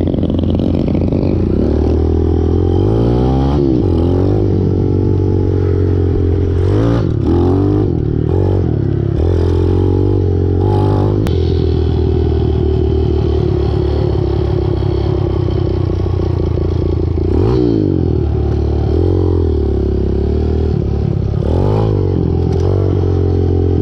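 A pit bike engine idles loudly with the choke on, a steady low rumble with uneven clattering and small rev surges throughout, close to the microphone and alone.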